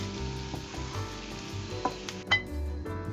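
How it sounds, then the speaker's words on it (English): Garlic frying in bubbling melted oil and butter in a pan, a steady soft sizzle with occasional sharper pops and light utensil taps, no voices. "add oil and butter and let it melt together and get bubbly"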